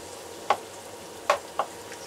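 Onions sautéing at one side of a pan while tilapia fillets are prepared: a faint, even sizzle broken by three short scraping taps of stirring.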